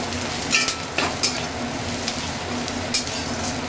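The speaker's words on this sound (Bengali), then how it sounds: "আমি কড়াইয়ের মধ্যেই হাফ চামচ জিরে, হাফ চামচ হলুদ, হাফ চামচ ধনেগুলো অ্যাড করেছি।" Cumin, turmeric and coriander fry in a kadai with a steady close sizzle, and several sharp scraping clinks from the stirring utensil land at irregular moments.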